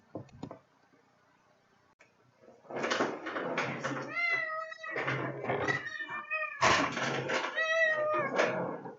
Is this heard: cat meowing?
yes